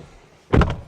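Car door thunking shut on a BYD Atto 2 DM-i compact plug-in hybrid, a single solid close with a brief rattle after it, heard after a quiet moment.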